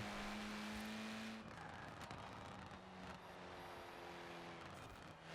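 A 1980 Renault 5 Turbo racing in a video game, its engine a sustained buzzing drone that dips briefly as it shifts or lifts through a corner, then carries on steadily with no talking.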